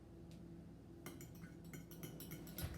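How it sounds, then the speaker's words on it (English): A fork clinks against a bowl while stirring coffee into a pudding mixture, a run of quick, light metallic taps close by and fairly faint over a low steady hum. "I'm going to stir it with a fork"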